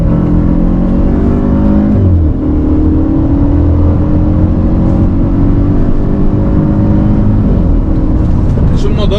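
A Mercedes SLK 200 in Sport mode dropping a couple of gears, the engine note droning loud and close with pitch shifts around each downshift, a voice talking over it.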